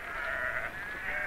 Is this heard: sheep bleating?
yes